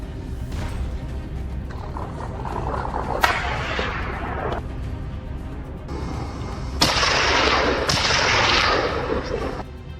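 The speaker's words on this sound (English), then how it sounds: "A gunshot rang out" Rifle gunshots during a wild boar hunt on a snowy slope, several sharp cracks with long rolling echoes, loud and outdoors, a few seconds apart with no talk.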